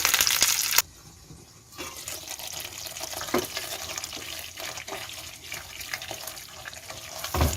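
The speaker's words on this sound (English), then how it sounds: "For the third time, I add some mixture of water and ice." A mixture of water and ice is poured into a pot of Iranian fesenjoon stew, a brief gush of liquid followed by quieter splashing, clinking and bubbling, close up with no speech.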